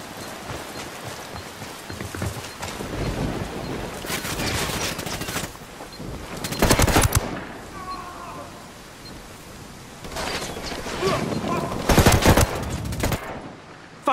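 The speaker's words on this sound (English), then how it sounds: "Opening fire on these fuckers." Bursts of automatic gunfire in the Ghost Recon Wildlands shooter game, loud and dense, arriving in several sustained volleys separated by brief lulls of quieter ambience.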